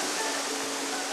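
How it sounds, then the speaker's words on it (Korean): Water flowing steadily in a mountain valley stream on Jirisan, a continuous broadband rushing hiss, close and even, with no break. "여기 딱 계곡에 와서 가만히 앉아 있으면 이 물 흐르는 소리가 그 복잡한 생각을 다 씻어가."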